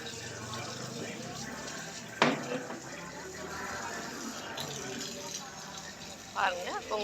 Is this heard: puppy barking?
no